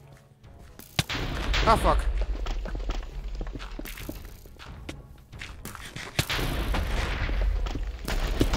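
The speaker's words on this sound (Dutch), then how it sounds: "explosies overal" Explosions and combat in a Minecraft Mage Walls minigame: sharp booming blasts with thuds and footsteps, one hard hit near the start and another later, under brief swearing from a player.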